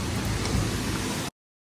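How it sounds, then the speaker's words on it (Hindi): Heavy rain beats down on a mountainside during a cycling tour, a loud, continuous hiss that holds steady before cutting off abruptly into silence. "बारिश काफी तेज हो गई है यार"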